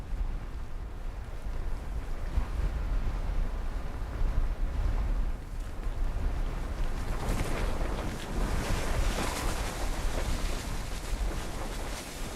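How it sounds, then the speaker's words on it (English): Strong gale-force wind battering a high camp on Mount McKinley, a steady loud roar with gusting surges and microphone buffeting, no voices. "Wind speeds exceeding 20 meters per second prevent the team from climbing"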